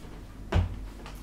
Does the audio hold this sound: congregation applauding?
no